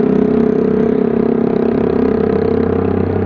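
A loud motorcycle exhaust drones steadily up close on Jalan Sudirman in Bukittinggi, West Sumatra, a constant low rumbling roar, idling or cruising.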